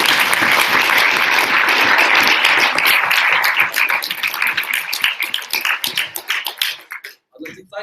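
A debate audience gives a dense round of applause after a speech in a debating chamber. The clapping holds loud, then thins into scattered claps and fades out.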